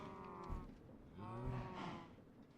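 Cows mooing in the video game Minecraft, two drawn-out moos one after another, moderately close and fairly quiet, with no talking over them.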